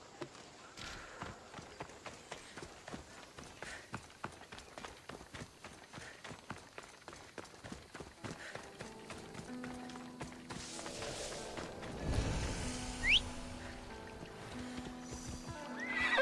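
A horse gallops in Assassin's Creed Odyssey, rapid rhythmic hoofbeats drumming steadily for several seconds, then a loud whinny and a change to a rushing, watery ambience, all fairly faint.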